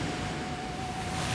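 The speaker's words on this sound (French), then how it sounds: "Dans cet archipel perdu du Pacifique Sud, balayé par les vents et secoué par les vagues du grand large" Wind and ocean waves sweep a remote South Pacific archipelago in Fiji, making a steady, full roar of broadband wash and gusting noise with no breaks and no voices.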